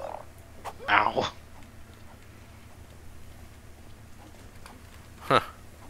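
Frog in ARK Survival Evolved, giving two short throaty croaks, a stuttering burst near the start and a briefer one near the end, over a quiet windy background.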